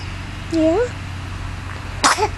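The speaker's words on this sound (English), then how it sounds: "We finally got a sneeze on camera." A baby lets out a single short, sharp sneeze close to the microphone, preceded by a brief high cooing sound and followed by a quiet little vocal squeak.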